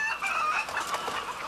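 Laying hens cluck and squawk in a dense chorus inside a caged egg production barn holding about 100,000 birds, with cages stacked high; the clucking is continuous and close, with no talk.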